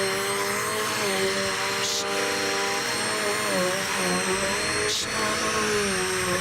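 A vacuum cleaner runs steadily nearby with a continuous whining drone, its pitch shifting slightly as it moves, with two brief sharp noises breaking through.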